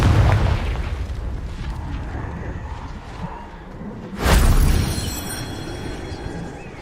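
A Confringo fire spell bursting in Hogwarts Legacy on PS5: a single sudden, loud explosive boom about two-thirds through, rising out of a continuous rumbling game ambience and fading into a crackling tail.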